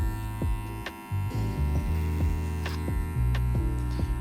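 Electric hair clippers buzz steadily as they cut hair over a comb, a close, continuous motor hum whose pitch dips and shifts with each pass and catches on the hair.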